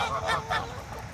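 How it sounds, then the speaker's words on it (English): A few loud, close goose honks ring out in quick succession from a flock, with short pauses between calls. "There he is, Ron, and all the other geese."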